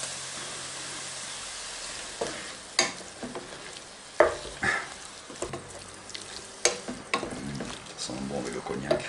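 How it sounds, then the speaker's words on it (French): Tomato coulis sizzles in a pan of seafood pasta sauce with cognac while being stirred, a steady frying hiss broken by scraping and clinking stirs, fairly close, with no voices. "On va mettre maintenant le coulis de tomate."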